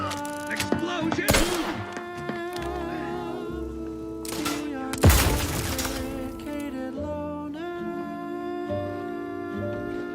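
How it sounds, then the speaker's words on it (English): Explosions in a video game go off as two heavy broadband blasts, one early and a louder one midway, each decaying over a steady bed of tonal game music and effects. "Explosion!"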